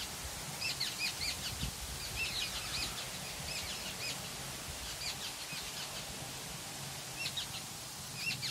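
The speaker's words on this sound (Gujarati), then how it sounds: "પંખીડાનો અવાજ એમ ગાવે જેવો" Small birds sing on a farm orchard of chikoo, mango and lemon trees, with short, high chirps repeating in clusters, faint and somewhat distant over a soft outdoor hush.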